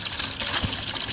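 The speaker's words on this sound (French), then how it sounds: "Vous voyez comment l'eau sort." Water gushes from a newly drilled well in Cameroon, a steady, loud rushing and splashing that fills the short stretch without any voices.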